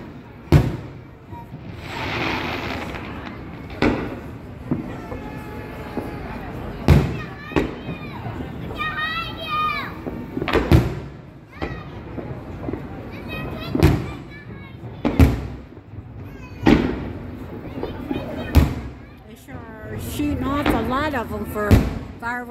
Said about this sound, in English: they're sure shooting off a lot of fireworks for being in Shoreview this year.